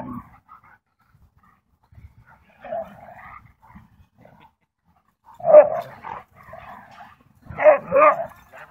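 Siberian husky at an outdoor dog park giving a few short barks and yips in brief bursts, with quiet gaps between them and some faint talk nearby.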